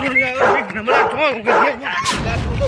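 A dog barks and yips in quick, excited bursts during a casual street cricket game, with voices mixed in close by.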